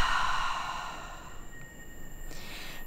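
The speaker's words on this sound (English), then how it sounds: "a long, long, long exhale out through the mouth" A long, slow exhale out through the mouth at the end of a yin yoga breath, a soft steady breathy rush that fades gradually over about three seconds, heard alone and close.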